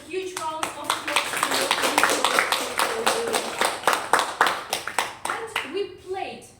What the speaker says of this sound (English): So huge rounds of applause